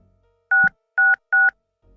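Three phone keypad tones beep in the video game Tex Murphy: Overseer, short evenly spaced dual-tone blips standing out clearly against near silence.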